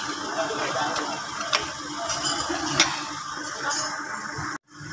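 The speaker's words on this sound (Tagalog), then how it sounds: "Higpitan na po natin siya at saka ibababa natin yung jack niya." A ratchet wrench clicks in a steady rapid rhythm while tightening the lower suspension bolt on a Mitsubishi L300 FB van, close and fairly loud over workshop noise, then cuts off abruptly.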